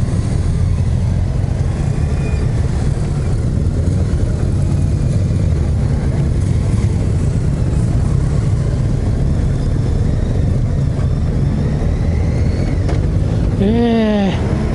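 Heavy traffic jam heard from a Honda Gold Wing GL1800 motorcycle, a loud, continuous low engine rumble from surrounding vehicles, with a short voice-like warble near the end.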